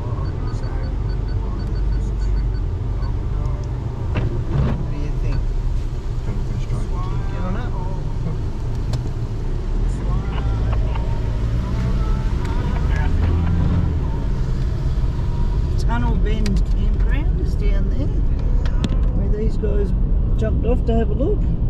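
Steady road noise from vehicles on a high country road near Frys Hut and Bindaree Falls in Victoria's high country, a continuous low engine rumble with traffic going by, voices talking faintly underneath throughout.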